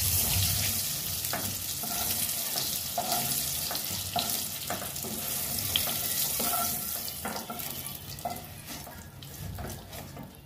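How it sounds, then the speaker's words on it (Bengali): Slices of pointed gourd (potol) fry in a pan, giving off a steady, close sizzling hiss broken by scattered clatters as they are stirred. "পটলগুলো লাল লাল করে ভাজা হয়ে গেছে, পটলগুলো এবার তুলে নেব।"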